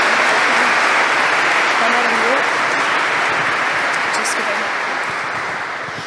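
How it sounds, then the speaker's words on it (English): Sustained applause from an audience at an award ceremony, a steady dense wash of clapping that holds loud for several seconds and then gradually fades toward the end. "I would ask you to give a round of applause to Conrad and Ailish."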